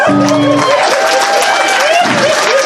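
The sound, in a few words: audience applause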